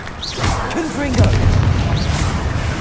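A Confringo spell blast in Hogwarts Legacy booms amid combat, a loud low explosion swelling and rumbling under a voice and chirpy magical effects.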